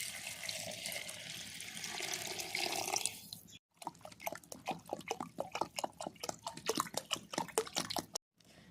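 Water poured from a small bowl into a pot of vegetables and ginger paste for a home-style Bengali khichuri, a steady splashing pour followed by a run of close, crisp drips and trickles, with no talk.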